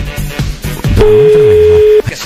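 A steady telephone tone after the other end picks up and hangs up during a prank call, sounding loud for about a second between bursts of talk, with a low voice speaking underneath.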